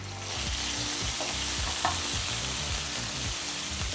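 Chopped onion sautés in oil in a frying pan for chicken and broccoli vermicelli, crackling with a close, continuous sizzle broken by soft stirring scrapes and small pops.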